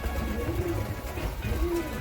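Pigeons coo softly inside a loft, two low rolling calls about a second apart, close, over a dull background hum.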